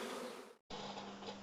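Honeybees hum at an opened hive fitted with a super. The buzzing is a steady, dense drone with a brief cut of silence partway through before the hum resumes.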